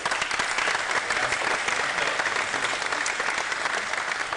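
Steady audience applause fills a Dragon Con convention panel room, a dense continuous patter of many hands clapping at even volume throughout, with no voices over it.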